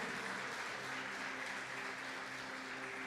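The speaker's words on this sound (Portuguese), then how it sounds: "Pode aplaudir o nome do Senhor." Steady applause from a large church congregation, dense and continuous clapping throughout, heard from a moderate distance with no voices.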